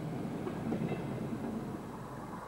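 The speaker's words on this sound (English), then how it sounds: "The speed increases and will pick up to 45 miles per hour once the train has left the power station." A merry-go-round coal train pulls away from a power station, a steady close rolling rumble of wagons on rails with faint clicking, fairly loud and constant.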